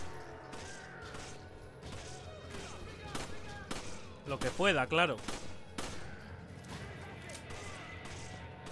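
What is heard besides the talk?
gunfire from the video game Resident Evil 5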